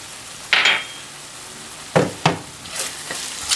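A spoon stirs chili powder and garam masala into a ridge gourd and dried prawn curry in a pan, giving a few distinct scraping strokes with a soft sizzle underneath, close and fairly loud, with no talk.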